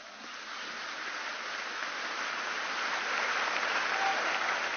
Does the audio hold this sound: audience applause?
yes